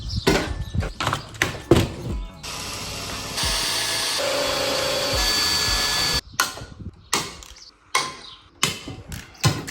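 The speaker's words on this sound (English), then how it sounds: "I'm going to rivet in the 2 points that I need to connect so that this becomes one solid" Sheet metal cold air intake pieces for a Mercedes 190D are riveted together: sharp, irregular pneumatic rivet-gun bursts and clanks, then several seconds of steady hissing air-tool noise, followed by more close, punchy metallic snaps.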